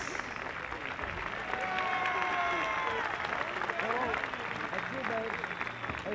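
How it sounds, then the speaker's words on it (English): An outdoor crowd at a 1969 Moratorium Day rally at UCLA applauds and cheers, a sustained wash of clapping that swells midway, with voices talking over it. "That applause was for you."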